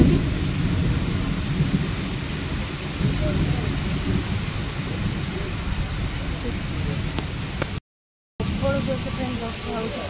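Heavy rain pours steadily with deep thunder rumbling throughout, a continuous loud downpour outdoors during monsoon weather, broken by one brief silent gap.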